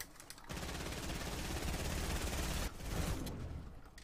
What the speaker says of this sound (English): Look how much damage shotgun does